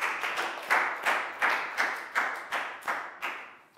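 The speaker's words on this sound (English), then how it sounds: "Big round of applause." Children in a classroom clap together in a rhythmic, evenly spaced beat, about nine firm claps at a moderate volume with no talking over them.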